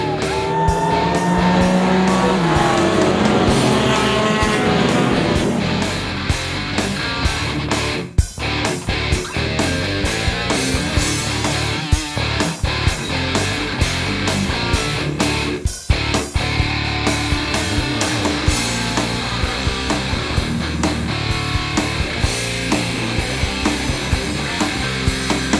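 A pack of race cars roars off the start of the Nelson Ledges 24-hour endurance race in 2007, engines loud and continuous, rising and shifting gears as they pass, with brief tire noise and no talking.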